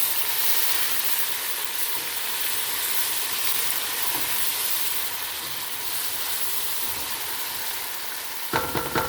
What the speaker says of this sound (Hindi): इस मौके पे हम ये जिंजर गार्लिक पेस्ट है जो इसमें ऐड कर रहे हैं। साथ ही इसको चम्मच चलाएंगे।